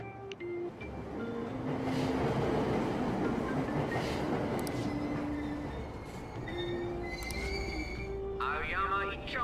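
Subway train in the video game Persona 5 Royal, a steady loud rumble of a carriage in motion with faint wheel squeal, tonal chimes and electronic announcement tones, and a sharp brake or door sound near the end.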